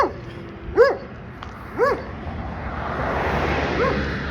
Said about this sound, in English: That dog always barks at me every time I walk by.